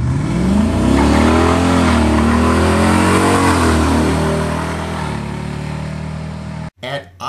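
A 1981 Ford truck with a Godzilla engine swap runs loud and steady, its pitch rising and falling as it accelerates and cruises before cutting off at the end, with a voice talking over it.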